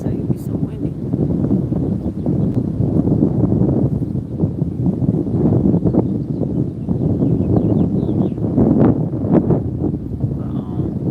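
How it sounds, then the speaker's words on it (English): Outdoor wind blows steadily throughout, a constant loud rumbling roar with gusty bursts and some rustling mixed in. "It's been windy for the past couple of days."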